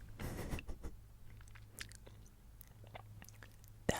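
Close, quiet chewing of crunchy kohakutou crystal candy with a chewy inside: soft crackly bites and wet mastication in irregular bursts, ending in one sharper crunch, with no talking.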